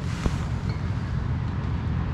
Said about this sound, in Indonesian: angin di luar kenceng.